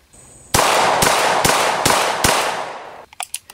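A CZ 75 SP-01 9mm pistol fires five loud, sharp shots in steady succession, each crack followed by a brief echo, with a faint click and metallic handling noise at the end.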